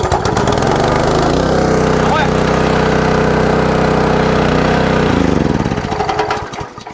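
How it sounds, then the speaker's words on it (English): Honda engine on a pressure washer starting and running: a loud, steady, buzzing drone from start to finish, with its pitch shifting as it settles into a lower rumbling idle before cutting back near the end. "That's how easy and awesome this Honda engine starts every time."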